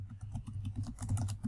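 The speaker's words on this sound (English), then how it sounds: "and then simply hit enter on your keyboard" Rapid, steady typing on a computer keyboard, a dense run of close, quiet key clicks heard alone with no talking.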